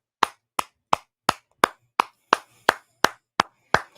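Eleven sharp single claps land at a steady, even pace, each one crisp and close with a short decay and quiet gaps between, with no voices.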